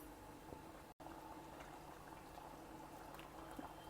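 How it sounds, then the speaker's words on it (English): Thick potato sagu bubbles in a pan with a steady, soft simmering burble and occasional pops, close and quiet, with no one talking. "See, it is boiling once again and it has thickened also."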